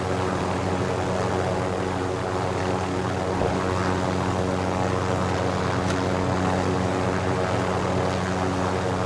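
A helicopter in Call of Duty: Modern Warfare flies steadily throughout, a constant close rotor and engine drone with a persistent low hum and no talk.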